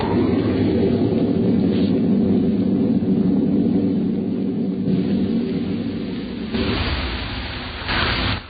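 Thunder crash sound effect in a radio drama: a loud, sustained rolling rumble with a sharper burst of crackle near the end, heard alone without voices.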